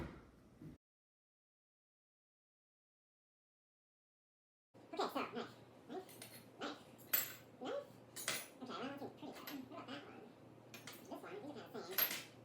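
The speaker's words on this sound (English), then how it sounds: "could you chop one of these onions for the guac?" A knife chops onions for guacamole on a board in a kitchen, giving repeated sharp knocks after a silent gap, mixed with people talking nearby.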